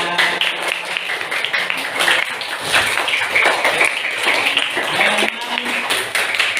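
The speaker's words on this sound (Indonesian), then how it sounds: "Bagus sekali, tepuk tangan." Applause in a classroom after a student's Quran recitation, a group of pupils clapping in a busy, uneven patter that runs throughout, with voices mixed in.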